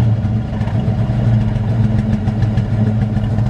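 A 1968 Ford Mustang convertible with a 289 V8 and C4 automatic idles steadily, a deep throaty rumble holding constant and close throughout, with no talk over it.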